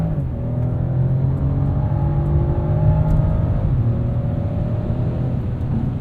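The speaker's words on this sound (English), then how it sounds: "Awesome power from this turbo inline six." A 2021 Mercedes-Benz E450 4Matic sedan with a turbo inline-six accelerates. Heard from inside the cabin, the engine drone is loud and steady, and its pitch climbs smoothly with no talking over it.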